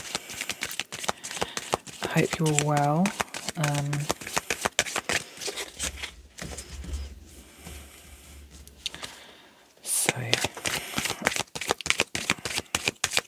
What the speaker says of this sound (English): Okay, let's give these a shuffle.